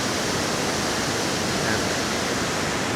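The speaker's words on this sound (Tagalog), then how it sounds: "Maririnig natin mula dito yung pagbagsak ng tubig mula doon sa baba." Steady broadband roar of a waterfall on a hidden trail at the foot of Mount Arayat by the Pampanga River, water crashing down from above, constant and fairly loud with no voices.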